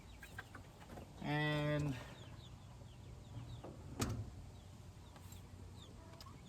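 Backyard chickens cluck, with a loud, clear call standing out briefly, then fainter clucks in the background while a person talks.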